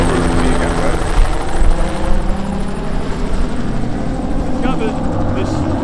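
A sheriff's helicopter flies close overhead, its loud, steady rotor chop and engine roar filling the clip without a break, while someone speaks briefly beneath it.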